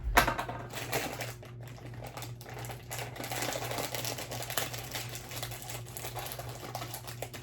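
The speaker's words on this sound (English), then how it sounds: "I will cut these open." Scissors cutting open crinkly snack packaging, close and fairly quiet, with a rapid run of small snips and crackling plastic.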